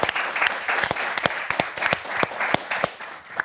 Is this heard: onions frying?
no